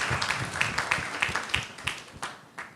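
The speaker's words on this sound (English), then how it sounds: "Please, let's give them another round of applause." A small forum audience applauds its panel members with a brief, sparse round of clapping, individual claps distinct and fading out after a few seconds.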